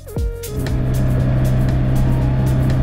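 A BMW X3 M50 with a sporty quad-pipe exhaust starts up with a sharp revving burst, then settles into a loud, steady, deep engine drone close by, with no talking.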